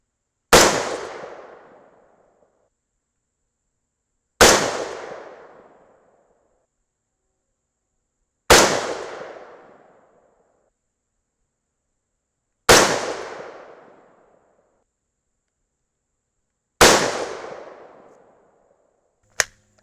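Five rifle shots through an 18-inch White Oak Armament SPR .223 barrel, each a loud sharp crack with a ringing decaying tail, spaced about four seconds apart and evenly paced, then a brief final click.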